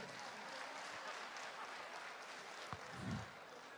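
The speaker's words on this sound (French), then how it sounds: "Applaudissements s'il vous plaît" Audience applause at the international final of a science-communication contest, welcoming a contestant from Madagascar; a steady, moderately loud wash of clapping from a hall crowd that holds throughout.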